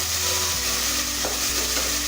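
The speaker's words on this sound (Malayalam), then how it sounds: "നമുക്ക് ഇടയ്ക്ക് പാത്രം തുറന്നിട്ട് തക്കാളി നന്നായിട്ടൊന്ന് മിക്സ് ചെയ്ത് കൊടുക്കാം." Tomatoes cooking in an open pan are stirred, a loud continuous sizzle and frying hiss with scraping strokes of the spoon, close up and without speech.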